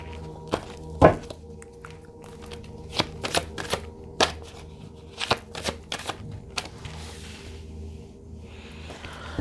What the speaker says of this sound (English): I'll give it a little shuffle on camera because sometimes people like to see that